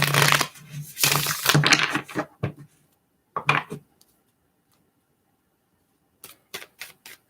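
Tarot cards are shuffled by hand in quick riffling bursts, a busy stretch of crisp flicks and taps early on, then a few isolated snaps and a final short flurry of card clicks.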